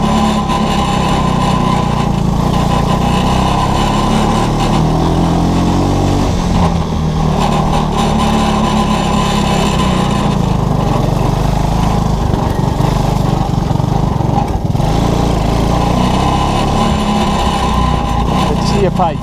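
ATC 200S engine in a side-by-side go-kart drones loud and close in second gear, a steady rough putter with slight swells, and a voice occasionally talks over it.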